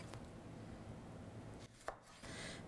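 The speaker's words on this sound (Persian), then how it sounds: "الان من گوجه‌هامو خرد میکنم." Tomatoes being chopped on a cutting board for baba ghanoush and mutabbal, a steady run of quiet knife taps close by, broken by a brief pause and one sharper knock.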